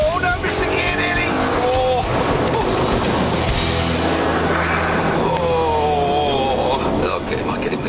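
A Porsche 911 C4S and an Audi R8 accelerating hard in a race, engines roaring and rising in pitch through the gears, close and loud, with voices talking over the engine noise.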